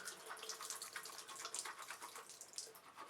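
A makeup brush rinsed under running water on a Sigma cleaning glove, giving a soft, steady splashing hiss with small trickling patters, fairly quiet and close, with no one speaking.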